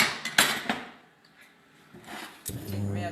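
Metal pans clank and bang against a stove top in a few sharp, close knocks, with a quieter pause between bursts and a final clatter settling into a low hum.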